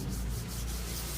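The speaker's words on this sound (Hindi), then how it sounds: "आहिस्ता से हथेलियों को रगड़ लें" Palms rub gently together, a soft continuous close-up friction swish with slight pulsing strokes, alone without talk.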